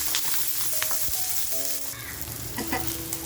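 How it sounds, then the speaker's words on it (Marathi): Ginger piece sizzling in hot oil in a pan over a full gas flame, a steady close frying hiss with faint crackles and small clinks throughout. "आता आल्याचा तुकडा टाकते आणि इथे आपल्याला आहे ना थोडंसं तेल टाकायचंय"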